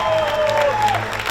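Applause from athletes of other nations congratulating the Korean correctional officers' team at the APLC competition, a short burst of dense clapping over a low crowd murmur.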